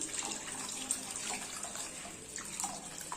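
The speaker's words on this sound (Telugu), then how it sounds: "మిగతా నీళ్ళు కూడా దీంట్లోకి వేసేసుకున్నాం" Water is poured into a pot of pepper rasam with leftover tomatoes, a faint continuous splashing trickle with small gurgles, fairly distant and quiet, with no speech.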